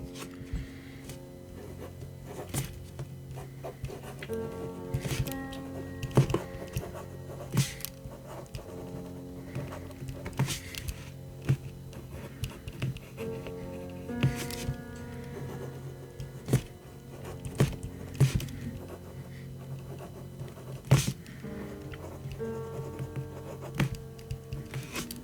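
Staedtler Jumbo pencil writing on a reMarkable tablet screen, giving a steady, soft scratchy stroke texture with repeated light taps and ticks, near and fairly quiet over a faint constant electronic hum.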